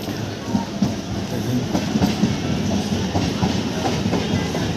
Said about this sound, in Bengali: দেখুন ট্রেন ঢুকছে দেখুন